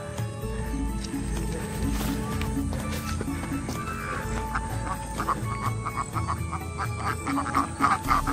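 Ducks quack among farmyard and village sounds in a calm rural setting, with a steady background bed and repeated nasal calls rising through the middle and end; other animal and ambient noises mix in.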